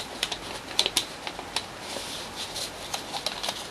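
Paper for an origami hydrangea is creased and folded toward the middle, with close, light crinkles, taps and rustles coming in irregular bursts and no talking.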